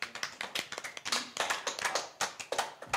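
A small group applauding at a Swedish quiz-style game night, a close, brisk run of rhythmic hand claps lasting a few seconds with no talking.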